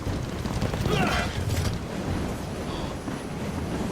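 Steam train in the video game Assassin's Creed Syndicate, a steady mechanical rumble with a few bursts of impact and clatter, heard under game sounds and speech.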